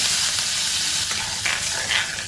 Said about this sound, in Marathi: त्याच तेलामध्ये आपण थोडीशी राई, थोडंसं जिरं, हिंग, कढीपत्ता